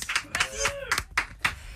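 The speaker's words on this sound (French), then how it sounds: "Allez, tu veux des applaudissements?" A handful of sharp, separate hand claps from a few people during a radio drive-time interview, spaced irregularly, with voices speaking and vocalizing between and over them.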